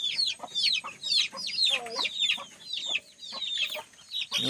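Chickens in a backyard coop give a busy run of rapid, overlapping clucks and calls, close and fairly loud, with no speech over them.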